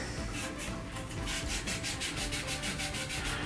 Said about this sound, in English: we physically clean the pipe with sandcloth